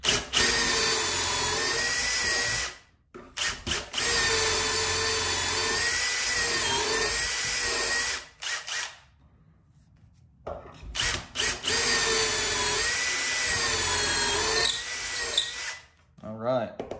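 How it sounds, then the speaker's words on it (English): A power drill whines loudly while boring dowel holes into wood with a Dowelmax dowel jig, running in two long bursts separated by a brief pause. "now we're just going to drill our dowel holes"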